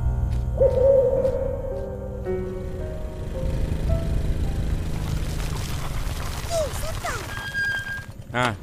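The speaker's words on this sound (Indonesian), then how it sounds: "Burung hantu." Low hooting notes of an owl in the animated series Upin & Ipin sound amid a busy mix of voices, music and background noise, with chirpy tones near the end.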